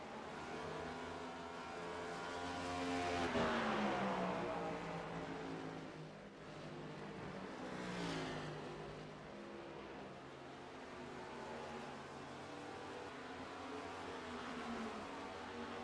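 Stock car race cars running on an oval track, engines roaring at a steady distance with pitch sweeps as cars pass by, a continuous layered drone without talk.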